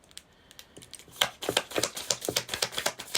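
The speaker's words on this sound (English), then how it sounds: "I always feel guilt when I shuffle my cards like that." A deck of tarot-style cards being shuffled by hand, a rapid run of crisp riffling clicks and flutters building up after a quiet start, close and alone.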